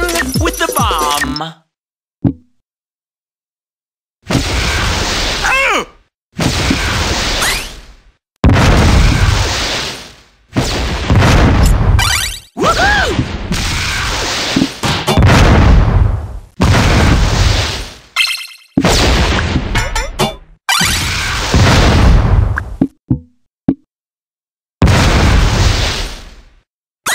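Bombs in the video game Atomic Bomberman go off as repeated loud, close booms and bursts in short separate blasts with silent gaps between them, and game voice lines sound among the explosions.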